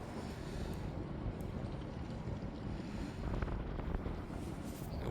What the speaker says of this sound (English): The wind is really going today.